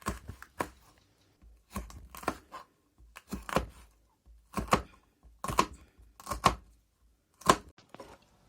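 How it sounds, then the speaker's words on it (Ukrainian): A knife cutting bell pepper into strips on a board in irregular bursts of crisp close taps, with short pauses between groups of cuts. "Нарізаємо перець соломкою."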